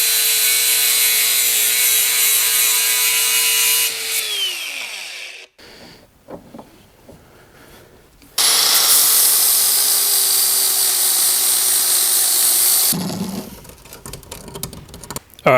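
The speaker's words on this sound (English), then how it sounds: "I'm going to be cutting off this section here" A section of metal fuel rail for a Mini Cooper 1.8T swap is cut with a power tool: a loud, close, high whining grind that runs about four seconds and winds down, then quieter clatter and handling, then a second long cutting pass.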